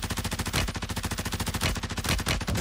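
Rapid, continuous automatic gunfire in the video game Warzone, rattling without pause, loud and close.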